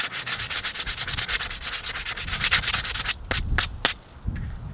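Old varnish being sanded off a weathered hand tool with brass grommets, a rapid rhythmic scratchy rubbing of strokes back and forth, close and loud, with a few pauses and slower strokes toward the end.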